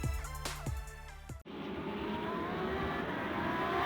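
Lamborghini Super Trofeo race cars at full throttle on the Mid-Ohio circuit, engines revving hard and shifting through gears close by before settling into a continuous loud roar of the pack.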